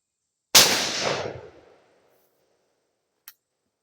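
A single sharp gunshot cracks out at a turkey shoot, loud and close, with a short decaying echo tail, then a faint click a couple of seconds later.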